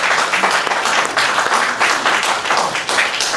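Town council candidates forum audience applauding steadily and loudly, a dense continuous clapping wash that fills the whole stretch without anyone speaking over it.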